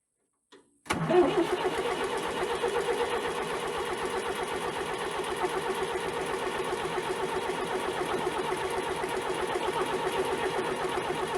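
A diesel engine, just fitted with new fuel filters, turns over and catches after a brief silence, then settles into a steady, loud, close running rumble that carries on without pause.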